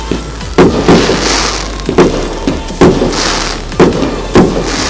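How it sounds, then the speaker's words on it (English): A Monumental Fireworks display at the Kidsgrove Athletics FC ground goes off in a run of loud booming bursts about a second apart, each blast trailed by crackling sparkle over a low crowd murmur. "Monumental Fireworks, they always put on a dazzling display."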